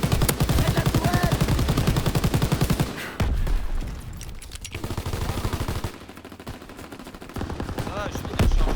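Rapid automatic gunfire in the Call of Duty WW2 video game, a loud close burst that empties a magazine, then scattered shots and battle noise with voices talking under it.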